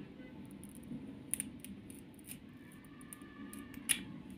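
Scissors trim a bamboo cutting and clip away extra leaves from the indoor plant, giving a few soft, crisp snips spread out over a quiet background.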